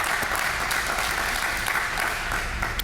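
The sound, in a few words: audience applause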